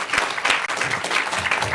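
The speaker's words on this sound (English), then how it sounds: "Let's give Yannicka a real warm round of applause." Warm audience applause at a library and environmental education event, a dense steady patter of many hands clapping close by, with no voices over it.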